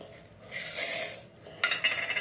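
Roasted peanuts tipped into a steel mixer grinder jar, a close rattling pour that swells and fades, then a brighter burst of nuts clattering against metal.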